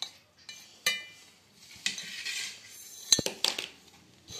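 A spoon scrapes and clinks against a bowl while mixing a semolina puttu mixture with ghee, a few sharp taps and soft stirring scrapes up close, quiet and irregular, with no talking.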